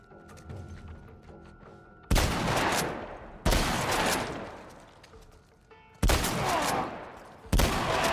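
Four loud shotgun blasts in The Last of Us Part I ring out at uneven intervals, each with a long decaying tail, over quiet game ambience.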